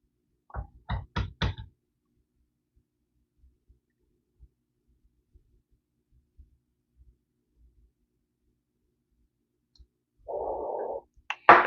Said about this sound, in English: You can gently tap so that the grinds get settled.